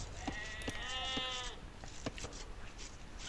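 A sheep in the strategy game Age of Empires 2 gives a wavering, quavering bleat, fairly faint over low game ambience, with soft rhythmic clicks around it.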